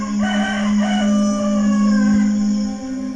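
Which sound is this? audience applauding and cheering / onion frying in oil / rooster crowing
rooster crowing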